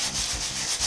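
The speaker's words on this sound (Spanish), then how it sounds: "vamos a trabajar lijando suave. Para desgastar la superficie" Sandpaper rubs lightly and steadily over the acrylic-painted leather of a handbag, a close, continuous scratchy hiss with gentle rhythmic strokes and no voices.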